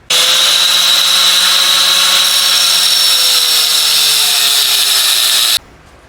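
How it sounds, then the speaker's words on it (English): An angle grinder cuts into a piece of scrap sheet metal to make part of a valve stem seal removal tool, a loud steady high-pitched whine that runs for about five and a half seconds, then stops abruptly. "we gotta find our angle grinder"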